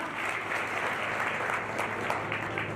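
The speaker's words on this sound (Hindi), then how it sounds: "जोरदार तालियां दें भैया एक बार" Loud, steady applause from an audience at a student honors and employment ceremony, a dense continuous wash of many hands clapping at once without pause, with faint background crowd noise.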